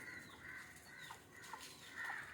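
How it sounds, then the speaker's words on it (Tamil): Native country chickens clucking in a farmyard, several birds making short, scattered calls over a steady background hum, fairly close with no voices. "எல்லா கோழியும் பயந்து போய் தான் வரும் ப்ரோ"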